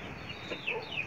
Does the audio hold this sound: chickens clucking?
yes